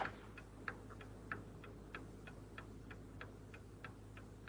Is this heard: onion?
no